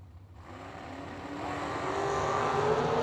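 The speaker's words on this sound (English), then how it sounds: "The wing dragster over on the right-hand side of the racetrack will be doing the chasing" A wing dragster at a drag racing track, its engine sound swelling steadily louder as it builds over a few seconds, heard at a distance.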